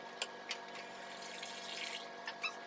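Water trickles and pours into a bowl at close range, a soft steady splash with a few brief louder drops, no talking, while Japanese sweets are being prepared.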